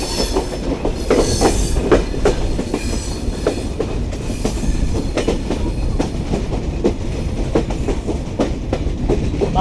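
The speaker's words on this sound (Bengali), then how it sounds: "আন্তনগর কপোতাক্ষ এক্সপ্রেস প্রবেশ করলো দর্শনা হল্ট রেলওয়ে স্টেশনে।" The Kapotaksha Express intercity train entering Darshana Halt station on the Rajshahi to Khulna route, loud continuous rumble with rhythmic clickety-clack of wheels over rail joints, no voices.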